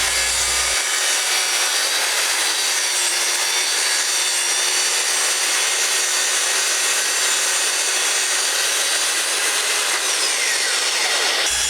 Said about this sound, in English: The cloudlift top rail had to be cut by hand.